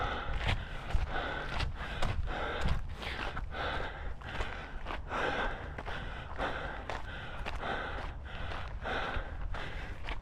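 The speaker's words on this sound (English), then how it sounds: "you can hear just how heavily I'm breathing" Heavy, rhythmic breathing of a runner on a single-track trail, close and steady, with regular gasping exhales in time with footfalls and no talking.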